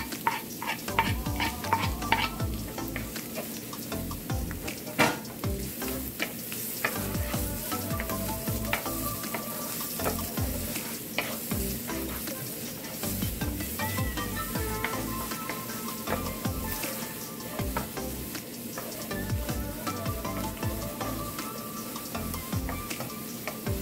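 Garlic and onion fry in hot oil with a dense, continuous sizzle and crackle, broken by frequent clinks and scrapes of stirring, close by and with no voices.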